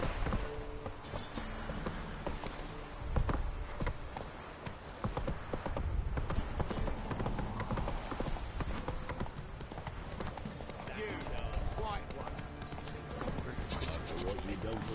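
Roach, a horse in The Witcher 3, clip-clops at a trot with steady hoofbeats and an occasional whinny, amid game sounds and background voices.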